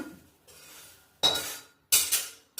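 Sugar being ground on a stone grinding slab (sil) in a home kitchen, heard as three separate bursts of gritty scraping with faint clinks, close and moderately loud, with quiet pauses between.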